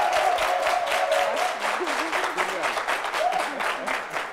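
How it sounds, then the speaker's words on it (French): An audience claps steadily for a performer at a live show. The dense applause carries on throughout, with a voice speaking over it and a few cheers rising from the crowd. "l'applaudir comme il se doit, s'il vous plaît."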